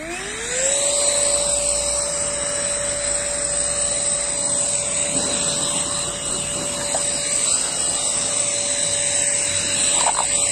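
A Parkside PAEXS 20-Li A cordless orbital sander runs steadily on pallet wood, a loud continuous whine with a high tonal hum from start to finish, no talk.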